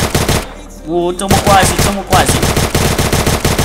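Scar rifle gunfire in a Free Fire-style Minecraft match: loud rapid bursts of shots, close and harsh, broken by a short lull, with a brief spoken remark over them.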